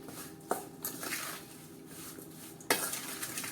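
Amla and green chili pickle gets mixed with spices, a spoon scraping and clinking against the bowl in a few sharp knocks over a steady stirring rustle, fairly quiet and close, with no talk.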